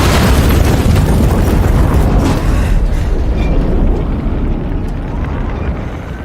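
A loud, close explosion during a city SWAT standoff: a sustained roaring blast of broadband rumble that slowly decays over several seconds, with no talk.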